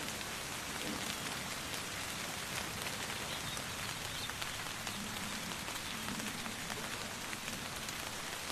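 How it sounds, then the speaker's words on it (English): Steady rain falls in the Nature Treks VR game, a dense, even hiss of drops on surfaces that continues without a break for the whole stretch, soft and ambient, with no voices. "It's a rainy day."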